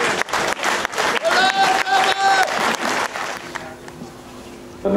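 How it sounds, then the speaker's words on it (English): Applause for the Salthill team at an under-20 final prize giving, a burst of clapping with voices and a sustained tone over it, fading to quieter crowd murmur near the end. "final round of applause, ladies and gentlemen, for Salthill."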